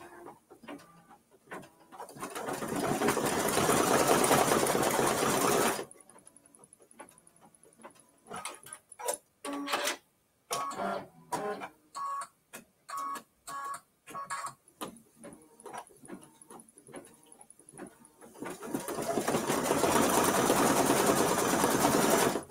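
Embroidery sewing machine stitching fringe onto a small quilt block, running in loud steady bursts at the start and end with a stretch of short clicking, stop-and-start stitches in between.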